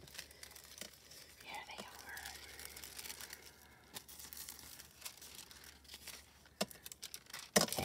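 Waste hot foil sheets are handled with soft, intermittent crinkles and rustles, mostly faint and close, ending in a sharper crumple, while a voice speaks quietly.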